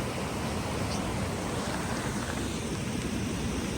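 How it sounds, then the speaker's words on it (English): Small waterfall on a backcountry hiking trail, a steady broadband rush of falling water close by, continuous and even with no voices. "Oh, nice little waterfall."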